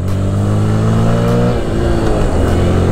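A close Yamaha PG1 motorcycle engine revs up, its pitch rising and falling as it accelerates, loud and continuous with no talking.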